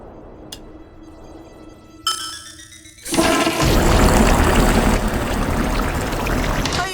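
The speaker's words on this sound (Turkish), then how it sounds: "Sifonu da amma güçlü çekiyor." A toilet flushes powerfully, starting with a click and a short lead-in before a loud, sustained rush of swirling water that fills the remainder.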